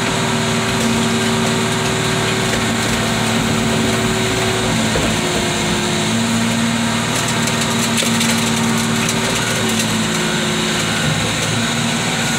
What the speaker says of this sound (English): Midship engine installed in a BMW.